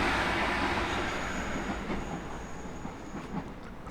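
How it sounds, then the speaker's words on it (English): A train rumbles past near an old river port at sunset, a broad steady roar with a faint high wheel squeal, close and loud, slowly easing off, with no talk. "Oh, train."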